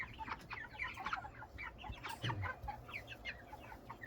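Meat chickens and ducks in a crowded pen of about sixty birds give repeated soft clucks and chirping calls, moderately near and fairly quiet, overlapping irregularly over a low background rumble.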